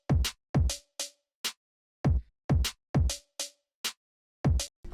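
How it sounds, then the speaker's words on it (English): A dry, punchy snare drum beat in a repeating hyperpop groove, with quick rolled hits between the main strikes, loud and close with no voices. "With the roll snare, and the main snare is gonna sound something like this."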